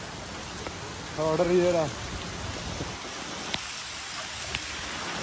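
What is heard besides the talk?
heavy rain falling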